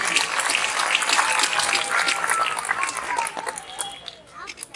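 Loud applause from a crowd for Colonel S.K. Singh at a school results gathering, dense clapping with some chatter and voices mixed in.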